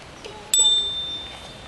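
A single crisp ding from the bell of a tandem recumbent bicycle, close and clear, with a ringing tone that slowly fades under faint background hum.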